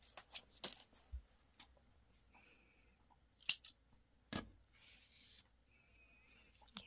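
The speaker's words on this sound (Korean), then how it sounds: "실은 적당하게 잘라주세요." Scissors snip through yarn at the end of a crocheted piece, a few short crisp cuts scattered across the quiet, with no talking.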